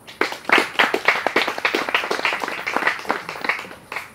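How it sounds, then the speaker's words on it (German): Warm applause from a summer party audience welcoming a speaker, distinct individual claps in a lively, uneven rhythm from a modest crowd, with no voices over it. "begrüßen mit einem herzlichen Applaus Michael Weihrauch"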